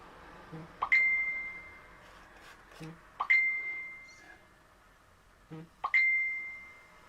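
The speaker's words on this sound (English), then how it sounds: "My phone is going absolutely bananas for some reason." A phone gives three notification dings, each a short tap followed by a clear sustained chime, spaced a couple of seconds apart over a quiet room with faint rustling.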